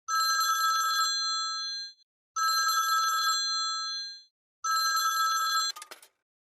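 A telephone rings in three long electronic bursts separated by short pauses, close and clear with no talk over it, in a household setting where a call is expected.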